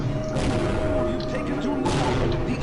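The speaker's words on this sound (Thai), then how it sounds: "เฮ้ยมันระเบิดแล้วด็อกเตอร์" Explosions in the video game Half-Life: Blue Shift, two loud booming bursts with rumbling crashes and debris over a low sustained game hum.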